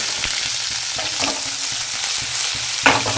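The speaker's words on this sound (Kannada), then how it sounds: "ಎಣ್ಣೆ ಕಾದ್ರಿ ಕಾದಿರೋದ್ರಿಂದ ಸಾಸಿವೆ ಚಟಪಟ ಅಂತ ಇದೆ" Mustard seeds, cumin and lentils sizzle in hot oil while a spoon stirs them, a close, steady frying hiss with sharp popping crackles and a few spatters.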